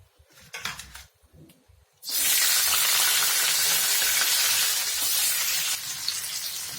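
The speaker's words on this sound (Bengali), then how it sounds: "তেলের মধ্যে এখন পেঁয়াজ দিয়ে দেবো" Onions dropped into hot oil in a wok burst into loud, dense frying sizzle after a couple of seconds of quiet clatter, then crackle steadily and close-up for the rest.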